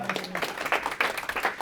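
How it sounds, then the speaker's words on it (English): Brief audience applause at a property investment seminar, dense steady clapping from a room of listeners, fairly close and even throughout, with no voices over it. "Give her a round of applause."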